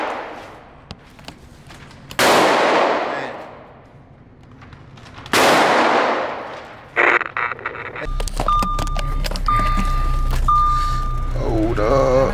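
A shotgun fired twice outdoors, each blast a loud sharp crack with a long decaying tail, spaced a few seconds apart, followed by clattering handling noise and a vehicle's reversing beeps in the background.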